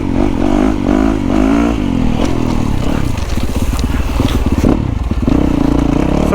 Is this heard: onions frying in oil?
no